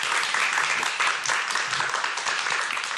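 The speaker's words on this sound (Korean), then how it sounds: "여러분 큰 박수 부탁드리겠습니다" Audience applause after a university lecture on global warming and climate, steady and dense throughout, filling the whole stretch alone without talk.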